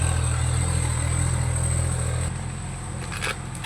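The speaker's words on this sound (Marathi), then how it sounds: "रस्त्याने ट्रॅक्टर गेलं की आवाजच येत नाही" A tractor passing on a road gives a loud, steady low engine drone that fills the first two seconds, then fades to a quieter rumble as it moves away.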